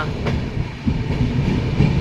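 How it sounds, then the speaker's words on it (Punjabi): A train rumbles past nearby, passing under a bridge at Malout, with a steady, loud rolling clatter that fills the whole moment. "ਮਲੋੜ ਦੇ ਪੁਲ ਦੇ ਥੱਲੋਂ ਦੀ ਟ੍ਰੇਨ ਲੰਘਣ ਡਈ ਆ"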